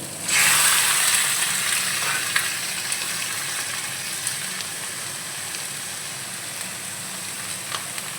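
Lote fish dropped into hot oil in a pan sizzle and fry: a sudden loud hiss on contact, then a steady crackling sizzle with small pops that continues close up and alone.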